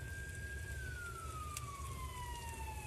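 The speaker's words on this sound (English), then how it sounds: "That would be an ambulance, I assume." An ambulance siren near a hospital car park, a single steady tone slowly falling in pitch as it passes at moderate distance over a constant low rumble of traffic and engine noise.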